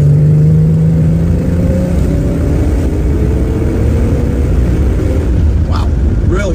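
A 1965 Plymouth Barracuda on the move gives a loud, steady engine drone with heavy road and wind rumble throughout, close and continuous.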